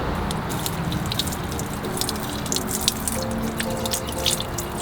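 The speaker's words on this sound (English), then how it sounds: "you can see how the water, it does slip off" Water sprayed onto an uncoated car wheel, running and dripping off the rim in a continuous close spatter with scattered sharper drips throughout.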